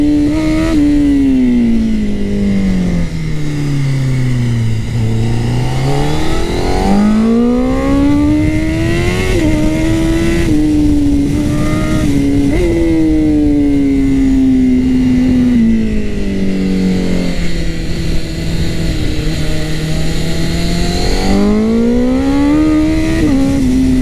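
A Honda CBR 1000 RR-R SP sport motorcycle revs hard through repeated rising and falling sweeps, the engine singing high and loud close to the rider with no talk over it.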